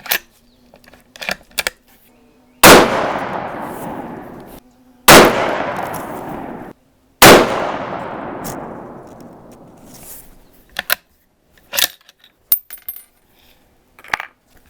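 Three sharp, loud .308 rifle shots with 168gr Hornady BTHP loads over IMR 4064 powder crack out a couple of seconds apart, each trailing off in a long ringing decay, with quiet clicks and handling noises in between.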